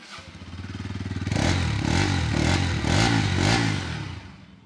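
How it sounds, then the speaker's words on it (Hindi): A 2025 Bajaj Pulsar NS200 motorcycle engine runs close by, idling roughly at first, then revved hard in several rising and falling bursts with a throaty, rattly exhaust note. No one speaks. "सो भाई सबसे पहले इस बाइक की मैं आप लोगों को एक बार साउंड सुना देता हूँ कि साउंड कैसी है।"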